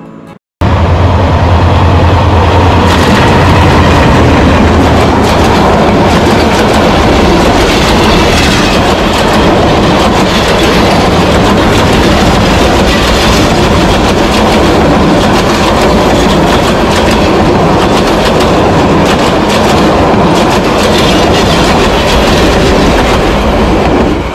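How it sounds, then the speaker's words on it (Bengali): A train runs past on a railway line beside a road near the Sonaichori trail in Mirsarai, Chattogram, with a loud, steady rumble and clickety-clack of wagons that holds for the whole stretch, close by. "আসছে ট্রেন, দেখেন কি মজা লাগে।"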